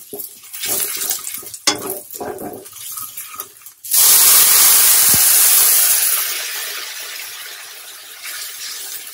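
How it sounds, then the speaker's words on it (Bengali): Ground cumin and garam masala frying in a pan with coriander powder, a broad steady sizzle surging loudly after a stretch of softer clinks and stirring, then easing off slightly. "এটা একটু হালকা ভাজবো, তারপরে জল দিয়ে আবার একটু কষিয়ে নেব।"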